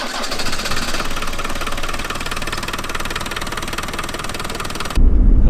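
Land Rover engine droning steadily inside the cabin while driving on the road during a long parade trip, a dense, even rumble with road noise, then a sudden low thump and changed hum at the end.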